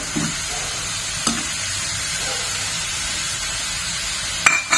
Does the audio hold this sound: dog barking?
no